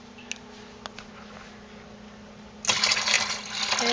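Melted laundry soap mixture is poured into a bucket. Quiet handling clinks come first, then a loud rushing pour of liquid starts partway through and runs to the end.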